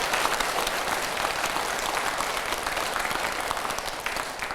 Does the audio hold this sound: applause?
yes